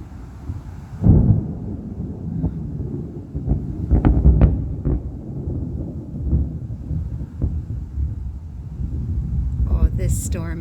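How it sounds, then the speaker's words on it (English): Thunder rumbles during a strong thunderstorm in Buffalo, with deep rolling booms and sharper cracks rising and fading under wind noise, and a person talks briefly near the end. "I've never seen a thunderstorm like this before."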